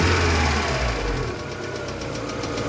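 A VAZ 2112 car engine runs steadily on a test drive, a continuous low mechanical hum and rumble at moderate, even loudness with no talk.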